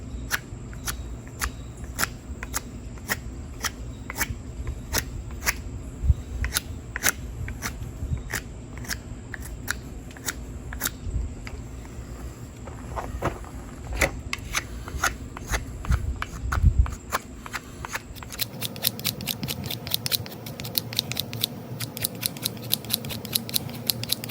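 A knife scrapes tulip poplar wood into feathers and shavings outdoors, a series of short crisp rasping strokes in a steady rhythm, close and clear, speeding into quicker scrapes toward the end.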